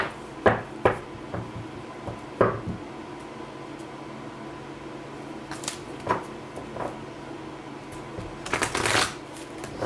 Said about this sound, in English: Let's do one more shuffle for good luck here.